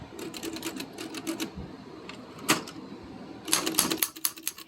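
Rapid mechanical clacking of antique typewriter keys in bursts, with a louder strike midway and a flurry of fast keystrokes toward the end.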